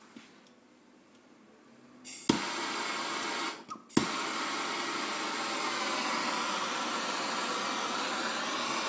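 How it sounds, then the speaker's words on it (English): A handheld turbo gas torch roars steadily while soldering a pipe, starting with a couple of sharp ignition pops and then settling into a loud, continuous broadband hiss. "We're welding this one with a turbo torch. It's a handheld gas torch."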